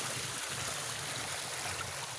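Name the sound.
river water flowing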